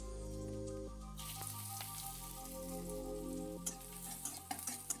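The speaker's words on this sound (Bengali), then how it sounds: "এবার ওই তেলের মধ্যেই প্রথমে দেবো রসুন কুচি" Chopped garlic hits hot oil with a sudden crackling sizzle that fills the pan, then settles into steady frying with a few sharp pops near the end, for an egg chili dish.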